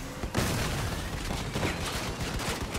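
Super Porcupines weapons on a boosted Hermes cockpit in a mech combat video game fire in a dense, continuous barrage of rapid explosive bursts, loud and sustained throughout with no talk.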